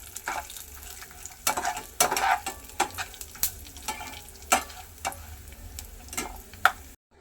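Dry fruits stir-fried in a hot pan for laddu, a crackling sizzle under repeated sharp spatula scrapes and taps at an irregular, fairly quick pace, close and clear.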